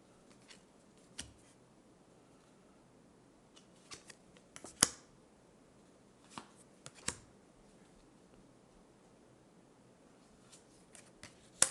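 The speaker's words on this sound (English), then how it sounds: "I'm just going to put these cards out" Tarot cards are laid out one by one on a table, giving sparse, soft snaps and slaps spread irregularly over a quiet background, with one louder flick near the middle.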